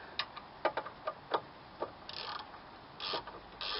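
A 17 mm ratchet snugging down the back bolts on a lower control arm, giving a string of quiet, quick ticking clicks in short bursts, faint and close with no talk.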